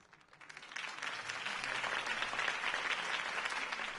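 A crowd in the video game Batman: The Telltale Series bursts into applause that swells quickly and holds steady, many hands clapping densely and loudly throughout.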